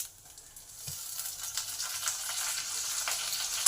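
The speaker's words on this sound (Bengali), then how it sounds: "কারি পাতাগুলো আমার ভাজা ভাজা হয়ে গেছে" Curry leaves and lentils frying in a pan for a semolina bun dosa, a soft, fairly quiet sizzle that grows slightly louder, with a faint light knock early on and no speech.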